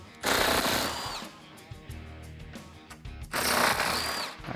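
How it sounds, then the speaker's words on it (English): Close bursts of an impact gun rattle loose 8mm bumper bolts on a 2010-2012 Mustang, two long loud hammering runs with shorter taps between them, in a garage setting. "Grab your 8 socket and impact gun or ratchet and get them off."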